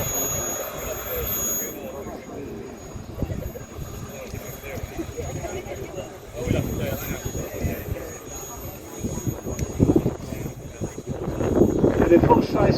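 A model jet aircraft engine with an afterburner-style exhaust runs at a demonstration, a steady roaring whine that swells louder toward the end, heard beneath a commentator talking over it.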